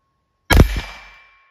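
A single sharp crack from a .22 LR Ruger pistol with a 10-inch barrel, fired through a chronograph outdoors, close and loud, with a quick echo and a tail fading over about half a second, and no talking.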